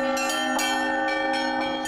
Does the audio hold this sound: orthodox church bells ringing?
yes